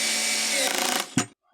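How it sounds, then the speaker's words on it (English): An angle grinder cuts off over-long screws fixed to a wall, a loud steady whine that wavers near the end, then stops abruptly after a brief final burst. "So, the screws are obviously too long. But for that I have an angle grinder."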